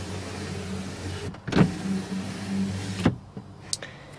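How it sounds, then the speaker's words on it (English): The power rear window of a Ford F150 pickup hums briefly as the motor runs, with a soft clunk as it starts and another as it stops, close and fairly quiet. "Here's the power sunroof rear window really quick."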